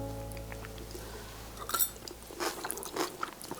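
Someone chews a bite of lentil salad dressed with pumpkin seed oil, soft close crunches and mouth sounds building after a quiet start.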